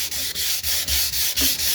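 Close, loud rhythmic strokes of wet sandpaper rubbing out a divot on the case of a 1963 Biennophone Verbier 6303/03-HE Swiss radio, about seven back-and-forth passes with brief pauses between, no talking.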